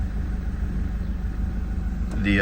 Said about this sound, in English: It will usually start up first try, and it still idles all right.